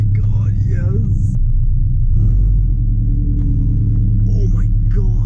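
A loud car engine rumbles low and steady on the first drive of the year, a deep continuous drone with a person talking excitedly over it throughout.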